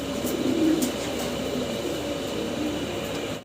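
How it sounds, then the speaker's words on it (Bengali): Large fancy pigeons in a pair cooing softly at close range, a low throaty murmur over steady background hum. "বিশাল সাইজের এক জোড়া শৌখিন কবুতর"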